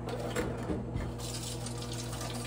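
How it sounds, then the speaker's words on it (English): Hot water pours steadily into a cooking pan with seasoning for Thai coconut soup, a continuous close splashing gush with a few brief louder splashes near the end. "combine seasoning with 2 cups of hot water"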